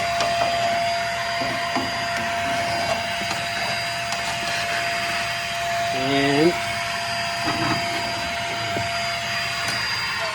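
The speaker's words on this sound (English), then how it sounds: "Let me get the vacuum on again. I just got a little ash everywhere." Vacuum cleaner sucking up spilled ash around a Harmon Absolute 63 pellet stove, a steady close whine and roar running throughout with a faint voice briefly underneath.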